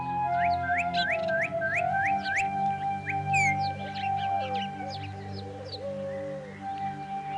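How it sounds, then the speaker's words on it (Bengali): Clear, close bird calls: a run of rising whistled notes repeated several times, followed by warbling chirps and longer sliding whistles. "চুপ করে পাখির আওয়াজ শোন।"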